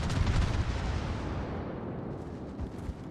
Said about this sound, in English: Both battleships firing at it.